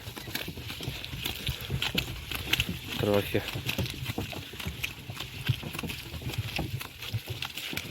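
Horse hooves clip-clop steadily on a slippery road, with someone talking over them and light outdoor noise throughout.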